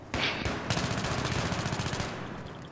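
A Battlefield 3 weapon on the Scrapmetal map fires a sustained, loud automatic burst of evenly spaced rapid shots, preceded by a couple of brief clicks and lasting about two seconds.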